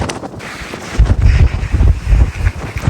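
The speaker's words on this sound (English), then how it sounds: "The wind has been absolutely mental." Strong gusting wind sweeps across an exposed hillside campsite in Wales, buffeting the microphone with heavy low rumbles that swell and ease in loud waves.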